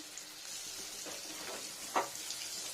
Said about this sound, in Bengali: এভাবে ঘুরিয়ে ঘুরিয়ে ভাজতে হবে যাতে সবাই তেল পায়